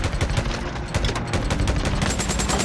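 Rapid, continuous gunfire from Days Gone fills the clip as loud, dense bursts with no pauses and no talk over it.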